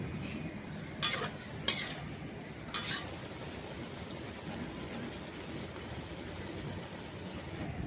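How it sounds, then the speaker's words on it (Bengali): Thinly sliced onions fry in mustard oil for beresta, a faint, steady sizzle like light rain that runs throughout, broken early by three brief sharp scrapes or clinks of a utensil against the pan. "এখন এই তেলে এখন আমি বেরেস্তাটা ভেজে নেব।"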